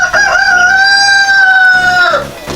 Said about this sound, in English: this is a little baby rooster